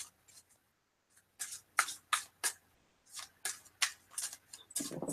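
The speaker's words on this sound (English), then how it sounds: "Did you just ripple shuffle?" Tarot cards being ripple shuffled, a series of crisp riffling bursts in quick succession, close and clear with brief pauses between and no talk.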